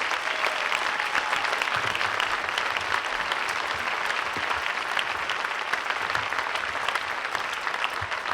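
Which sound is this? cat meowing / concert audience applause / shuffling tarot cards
concert audience applause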